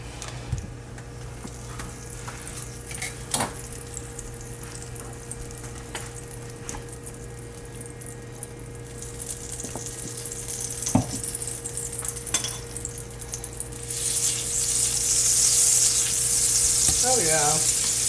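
Butter and olive oil sizzle in a hot cast iron skillet over high heat, a steady crackle with occasional clinks that swells into a louder hiss toward the end.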